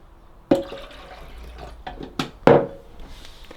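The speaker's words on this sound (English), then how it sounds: "Just going to top up the water in the back a little bit." Water is poured into the rear tank of a L'OR Barista coffee machine, with a few sharp splashes and sloshes between quieter pauses, close and fairly clear.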